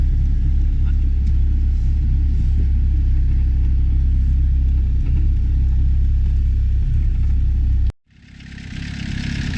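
Diesel turbo Peugeot 306 engine idling with a steady low rumble, then shifting into gear and pulling away; near the end the sound cuts sharply and picks back up as the car moves.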